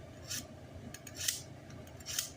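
A knife slices filet steaks from a raw beef tenderloin, giving three soft scraping strokes at an even pace, faint and close, with no voices.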